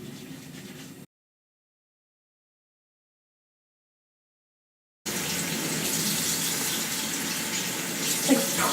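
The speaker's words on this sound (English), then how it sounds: "Run some water over it." Tap water runs over a makeup brush in a sink, a short stretch of splashing, then silence for several seconds before a steadier gushing stream resumes, close and fairly faint.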